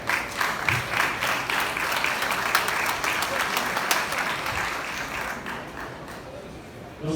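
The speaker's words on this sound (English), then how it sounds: "He deserves a round of applause." An audience claps in sustained applause, dense and fairly close, gradually thinning toward the end with some voices mixed in.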